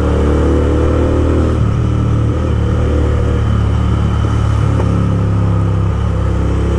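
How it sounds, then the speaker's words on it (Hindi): Royal Enfield Interceptor 650 running a loud Gursewak exhaust on the highway, its steady close engine roar broken by a few sharp popping backfires, with no voices. "भाई, बैक फायर छोड़ रही है गाड़ी।"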